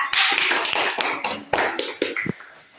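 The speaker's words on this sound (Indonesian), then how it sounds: "Tepuk tangan untuk kelompok kolera" A classroom group claps for fellow students, brisk uneven hand claps near and fairly loud, thinning into a few separate sharp claps as it fades out.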